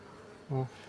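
A honeybee buzzes briefly close by beside comb built in a hive frame, one short, clear drone standing out over a quiet background.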